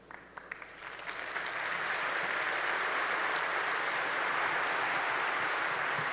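Audience applause at a talk event with Carlos Slim Helú, starting as a few scattered claps and swelling within a second into a sustained, dense, steady ovation that fills the rest of the stretch, fairly distant and even.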